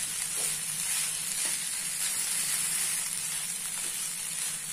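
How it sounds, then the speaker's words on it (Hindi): Poha being stir-fried in a pan with ingredients mixed in, a steady close sizzle and hiss with faint scraping of the spatula, no talk. "5 मिनट्स तक ये पोहे को स्टर फ्राई कर लेते हुए मिक्स करिए"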